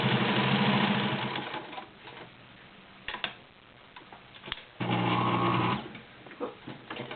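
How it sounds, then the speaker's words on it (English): A Sears Kenmore 1703 heavy-duty super high shank cam sewing machine stitching through leather runs in bursts of rapid, rhythmic motor hum and needle clatter, pausing and restarting, close and alone. "Beautiful stitch on leather. And that, once again, is your Sears Kenmore 1703 Super High Shank Cam Machine."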